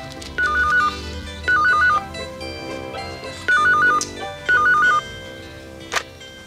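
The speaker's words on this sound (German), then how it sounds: "Telefon! Ich gehe schon ran." Telephone ringing in short bursts of a trilling electronic tone, four rings spaced about a second apart, close and clear, followed by a brief click.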